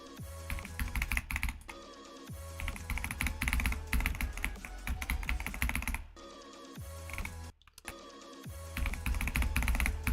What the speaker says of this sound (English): I don't talk out loud when I'm typing.